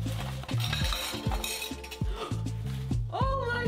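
Plates and dishes being handled while cleaning out a cluttered home, a run of close, sharp ceramic clinks and knocks in an uneven rhythm.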